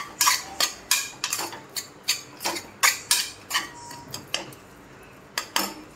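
A utensil stirs and scrapes beach sundal masala in a pan over a low flame, making a quick run of sharp metallic clinks that slow toward the end, close and clear.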